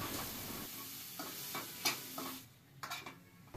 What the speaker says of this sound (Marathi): कांदा व्यवस्थित परतून घेऊ।